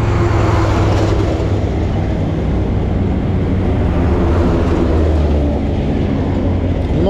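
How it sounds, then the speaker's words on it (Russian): Loud, continuous rumble of heavy road traffic on a street in Luhansk, with trucks droning steadily close by and no break in the noise. "Много грузовых машин шумят."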